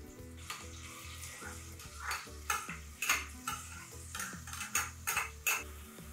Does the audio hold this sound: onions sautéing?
yes